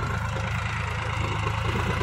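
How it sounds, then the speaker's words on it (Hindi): Swaraj or Sonalika tractor engine pulling a heavy trolley up an incline at low rpm, a loud, steady low chugging throb close by with no talk. "आराम से आप देख सकते हैं लो आरपीएम पे ट्रैक्टर आराम से चढ़ गया है"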